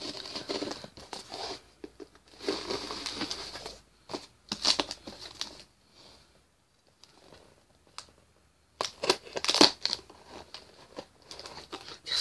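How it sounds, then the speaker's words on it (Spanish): Cardboard packaging around a 20th-anniversary Sailor Moon Star Locket is torn open by hand in irregular bursts of ripping and crinkling, with short pauses between pulls. "Ahora ya rompiendo el cartón."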